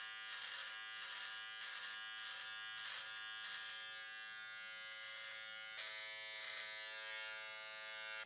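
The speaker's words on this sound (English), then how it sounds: "Now you're going to use your Wahl trimmer to create a vertical line of hair about 1/2 inch to 1 inch wide" A Wahl electric trimmer buzzes steadily as it trims a horseshoe mustache, a continuous close, even hum with slight rhythmic changes in tone as it passes over the hair, and no voices.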